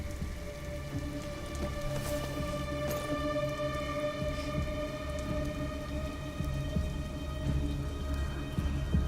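Steady rain patters on surfaces throughout a stormy night scene in Detroit: Become Human, a continuous even wash with faint thunder rumbling low underneath.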